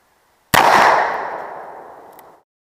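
A single sharp, loud blast from a .44 Magnum Ruger Redhawk revolver fired at a cabbage, with a long ringing decay that fades over about two seconds.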